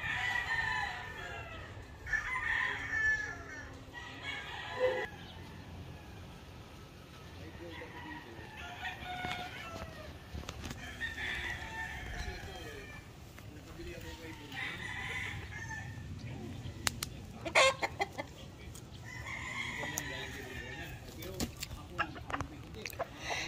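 Chickens and roosters kept by a retired US Navy man crow and cluck at intervals, several calls repeating across the clip over low background noise.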